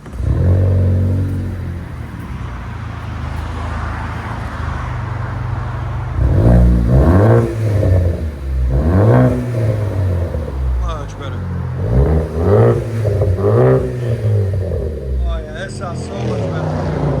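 A 2016 Ford Focus ST with a 2.0L turbo engine, six-speed, and an AWE Track cat-back exhaust idles with a deep rumble, then is revved repeatedly in loud, rising-and-falling bursts at close range.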